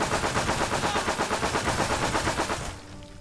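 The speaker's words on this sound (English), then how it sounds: "This machine gun needs to blap." Machine gun in a war video game firing one long rapid burst of evenly spaced loud shots, close and sharp, stopping abruptly near the end with a short fading echo.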